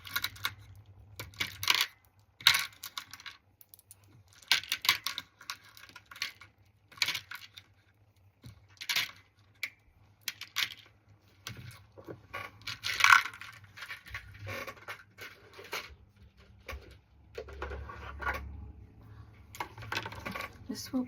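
Small ceramic or glass beads are dropped into a plastic storage container, making repeated bright clicks and rattling trickles in irregular bursts across the clip, close and fairly loud.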